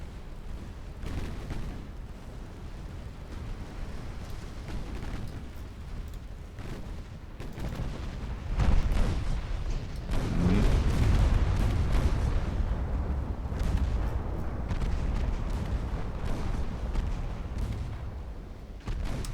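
Naval battle in a British warship video game, with a dense, continuous rumble of heavy artillery fire and shell explosions, including 18-inch shells, swelling louder midway and rolling on without pause.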